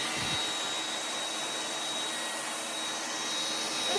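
Vorwerk robot vacuum cleaner running along the edge of a room, a steady, close, continuous whirring drone with a thin high whine throughout and no talk.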